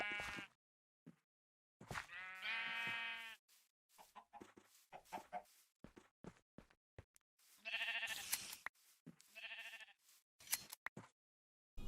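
Sheep in the Minecraft modpack Nomifactory give several separate bleats at irregular intervals, clear and close with short silences between them.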